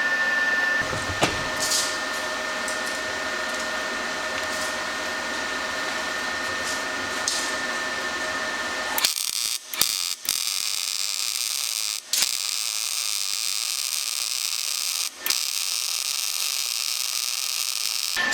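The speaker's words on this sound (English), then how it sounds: "right now I'm going to demonstrate the MIG on the 110." A Razor Weld 195 multi-process welder running MIG on 110 volts gives a steady, loud broadband hiss and buzz, which shifts to a harsher crackling arc with several brief breaks in the second half.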